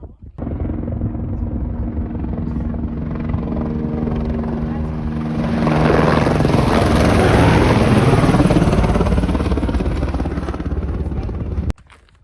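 A helicopter's thudding rotor swells louder as it passes close overhead on a mountain hike near Mt Bierstadt, Colorado, then the noise cuts off abruptly near the end.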